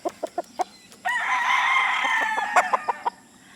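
A Boston White gamefowl rooster crows once, loud and close, with sharp clucks from the bird before and after the crow.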